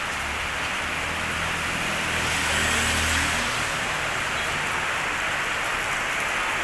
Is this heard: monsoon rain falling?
yes